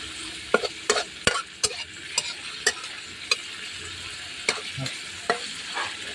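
Minced pork stir-fried with holy basil in oyster sauce in a wok, a steady frying sizzle punctuated by sharp, irregular clacks of the spatula against the pan, close up with no voices.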